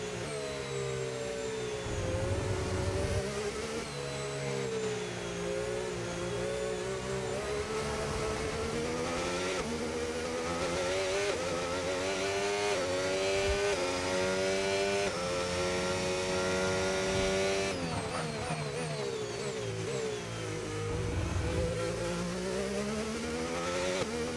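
Formula 1 race car engines screaming during a race in F1 25, a continuous high-pitched roar that rises and falls with gear changes and acceleration, loud and unbroken throughout.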